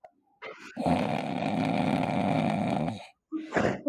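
A voice imitates the heavy breathing from 2001: A Space Odyssey, one long, loud, rasping breath sustained for over two seconds, then a short second breath after a brief pause.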